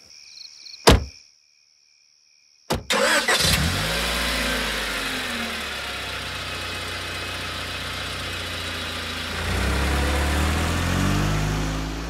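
After two sharp knocks and a short silence, a car engine cranks and catches, then settles into a steady idle before revving up louder near the end.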